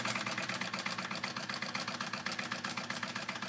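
A sewing machine stitches a 3/8 inch seam on a Flair crossbody bag. It makes a close, continuous whirring hum with a rapid, even, pulsing rhythm throughout.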